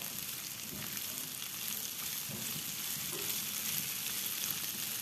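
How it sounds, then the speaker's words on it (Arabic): Sliced medium onions and chicken sizzle and fry in a pan while being stirred, a steady close crackle with soft scraping stirs throughout, no talk. "معايا هنا بصلتين حجم وسط متقطعين جوانح، وهقلبهم كويس مع الفراخ"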